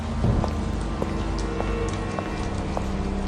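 Heavy rain pours steadily as a sound effect in an animated Hindi story, set as three people head out with shovels to plough a farm field; a continuous wash of rain with faint repeating tones over it and no talking.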